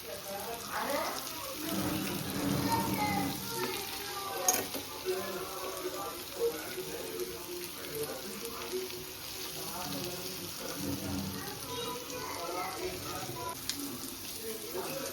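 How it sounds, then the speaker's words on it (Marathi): Fish and brinjal frying together in masala on a tava, giving a dense, steady sizzle with occasional stirring clatter, close and moderately loud, with voices murmuring underneath. "आपली मच्छी आणि वांग फ्राय करून झालेत"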